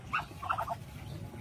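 Muscovy ducks on a small breeding farm give a few brief hoarse honking calls over a low background rumble, fairly close and moderately loud, with no talk.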